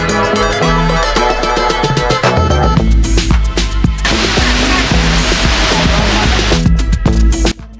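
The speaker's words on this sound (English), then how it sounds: "Rupp's Falls is a waterfall in central Nepal." Rupp's Falls, a waterfall in Dana, Myagdi district, central Nepal, gives a steady broadband rush that swells loudest in the middle, mixed with tonal music throughout.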